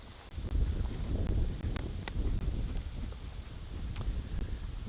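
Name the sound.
strong wind at disc golf course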